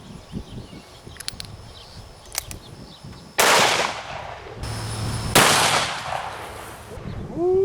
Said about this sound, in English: We have a Smith & Wesson 500 Magnum Performance Center with a 10-inch barrel.